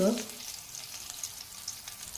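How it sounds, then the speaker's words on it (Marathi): A soft, steady sizzle of mustard seeds, cumin, chopped green chilli, curry leaves and asafoetida frying in hot oil, close by, with a brief clatter at the start and no talking. "फोडणी झाली आहे"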